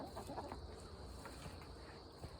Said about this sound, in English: Chickens are hanging out for food.